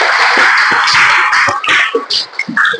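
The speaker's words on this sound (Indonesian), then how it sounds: "Tepuk tangan untuk kita semua." Schoolchildren clap together in a classroom at the start of a morning lesson, a dense, bright patter of hands that fades out, broken by scattered shouts and young voices toward the end.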